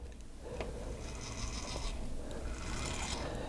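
Pinball helicopter mechanism with a yellow sleeve coupler, spun by hand: steady whirring, rubbing mechanical noise with faint ratchety gear clicks throughout, close and continuous.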